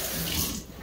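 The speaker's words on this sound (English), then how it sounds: "So let me wash my hands" Warm water splashes and runs in a kitchen sink as hands are washed, a brief close rushing and sloshing that fades slightly at the end.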